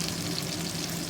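Seasoned chicken pieces frying in a pan, a steady close sizzle with no talk.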